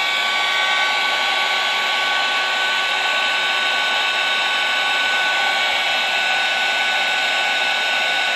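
A heat embossing tool warms up over embossing powder on a handmade Christmas card, a constant loud fan-like whir with a faint whine that stays even throughout, with no voices.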